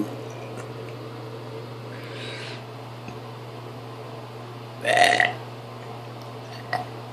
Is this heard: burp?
yes